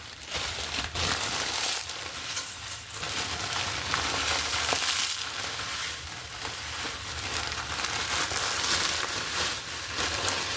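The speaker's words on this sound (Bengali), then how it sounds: "চুলায় কিন্তু আমি আবার ঘি দিয়ে দিয়েছি, আর শুধুমাত্র এক প্যাকেটই দিয়ে দিচ্ছি সেমাই।" Vermicelli (semai) fried in ghee in a pan on the stove gives a steady crackling sizzle with soft crinkly stirring noises, continuous and close for the whole stretch, with no talking.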